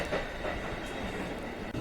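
Packed rush-hour train in motion in the video game Fatal Twelve: a steady, loud rumble of rolling carriages with faint rhythmic rail clatter that continues without pause and has no talk over it.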